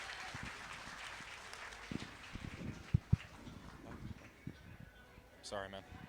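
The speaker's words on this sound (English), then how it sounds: "Let's give this young lady a big round of applause." Scattered applause from a crowd at a county fair market steer and beef show, soft and somewhat distant. An announcer talks over it, and a few sharp claps stand out.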